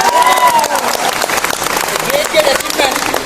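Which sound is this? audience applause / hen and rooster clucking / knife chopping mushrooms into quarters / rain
audience applause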